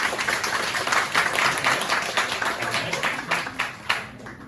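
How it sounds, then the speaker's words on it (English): A crowd claps steadily for several seconds, a dense wash of applause voting for a favourite cat picture at a storytelling event's tournament, with a faint voice beneath. "you clap for which one you like better"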